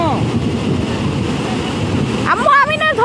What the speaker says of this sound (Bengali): অনেক বড় ঢেউ আসছে, তুই দেখো ওইখান থেকে